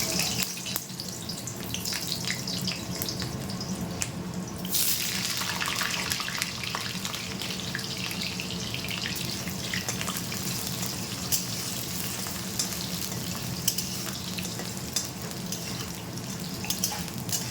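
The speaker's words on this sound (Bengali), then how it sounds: "এই আলুগুলিকে কিন্তু আমি হালকাভাবে ভেজে নেব" Cut potatoes fry in hot mustard oil in a pan, giving a steady, dense sizzle that runs close and unbroken the whole time, with a brief louder hiss near the start.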